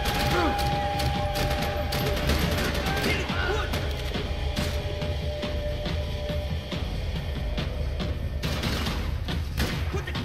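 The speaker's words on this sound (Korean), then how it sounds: "아, 이젠 그냥 총소리 난다." Loud, continuous gunfire from the video game Max Payne 3 crackles throughout, with rapid shots and heavy thuds layered over dense combat noise and occasional voices.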